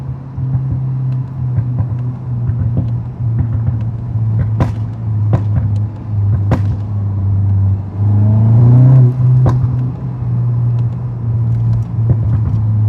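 A 2024 VW Golf GTI Mk8 with a muffler delete driving, a constant low drone of the exhaust with intermittent clicks and thumps and a brief rev swell partway through, heard from inside the cabin.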